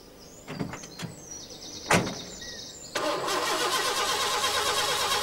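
A postman's van engine starts: a few clunks and a brief cranking, then the engine catches and settles into a steady, fairly loud idle as it warms up.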